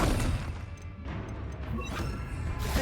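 A Confringo blast spell in Hogwarts Legacy goes off as a loud crashing burst with a booming impact, then a rumbling tail of clattering debris and more hits.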